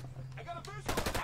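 A vehicle-mounted gun in Ghost Recon Breakpoint opens up in a rapid, loud burst of automatic fire after a short stretch of speech and game noise.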